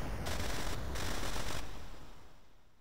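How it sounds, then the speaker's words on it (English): Big explosion in Final Fantasy Tactics, a dense crackling burst with rapid pulsing bangs that sustains loudly and then fades out over the last second. "And we get the iconic explosion."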